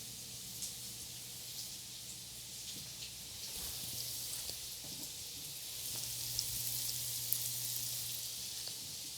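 Celery sizzling and frying in a pan with onions and green onions, a steady close hiss with faint crackles and a few soft stirring knocks.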